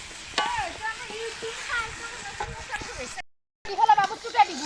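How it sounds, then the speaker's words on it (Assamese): Meat and potatoes fry in a pan with a steady sizzle, punctuated by stirring scrapes and clanks, while a person talks over it; a short silent gap interrupts near the end. "মাংস ভাজি আছোঁ আধা ভাজা হৈছে"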